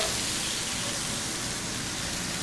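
Garlic sizzles in a hot sauté pan with a loud, dense, even hiss that stays steady throughout, with no voices over it.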